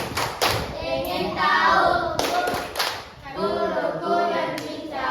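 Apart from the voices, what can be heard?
rhythmic concentration clapping (tepuk konsentrasi) by a class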